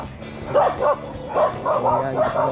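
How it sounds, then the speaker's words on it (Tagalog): Several dogs in a town in Los Baños, Laguna, bark and yip in quick overlapping bursts close by, loud over a busy outdoor background. "Aggressive yung mga aso dito ah."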